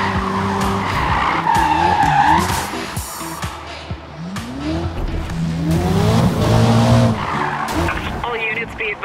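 Loud Need for Speed Rivals car chase: tires skid and squeal over roaring, revving engines with sirens, while a police radio voice talks through the action.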